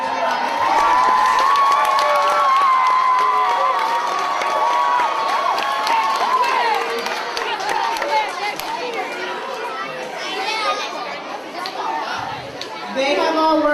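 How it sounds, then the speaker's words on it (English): A school assembly crowd celebrating an 8th grade graduation erupts in loud cheering, whoops and applause, with children shouting and overlapping chatter swelling and dipping across the stretch. "Let's give it a round of applause."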